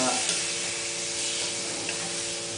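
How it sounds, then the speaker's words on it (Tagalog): Meat sautés in a hot pan for bicol express, a dense continuous sizzle and crackle close up, with faint stirring and a few light clinks against the pan. "Gigisahin muna ang karne."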